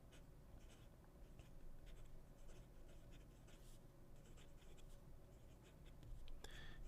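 Hongdian 1860 Black Forest Max fountain pen with a fairly stiff nib writing reverse on paper, faint close scratching strokes in short irregular bursts.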